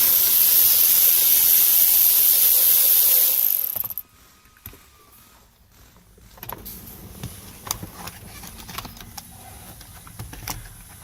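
A power tool whirs loudly for about four seconds while backing out a bolt that holds a car's airbag cover, followed by quieter scattered metallic clicks and clinks of the bolt and tools being handled up close.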